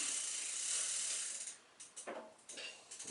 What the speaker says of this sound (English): Now I'm going to take my pedal wrench and do the last little bit.